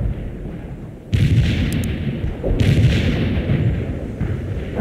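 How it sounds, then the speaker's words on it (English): Mortar artillery fire in a war video game: two heavy, booming blasts land a second or so apart, each followed by a rolling rumble, with low battle noise continuing underneath. "Hold up firing mortars."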